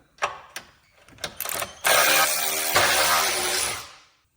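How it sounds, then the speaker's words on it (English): An Alloy Man ratchet works on sway bar link nuts on a Ford Crown Victoria. A few sharp clicks come first, then a close, loud motorized whir runs for about two seconds before it winds down. "we've got our Alloy Man ratchet and snap these off"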